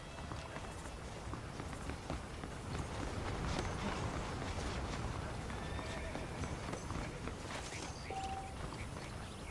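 Horses clip-clop along in the Red Dead Redemption video game, a steady rhythm of hooves running beneath constant talking and game ambience at moderate volume.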